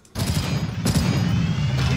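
Rapid 20mm cannon fire from a war film depicting the 1940 German attack on Denmark, a loud, dense burst of shots starting abruptly and continuing without pause, with a sharper crack partway through.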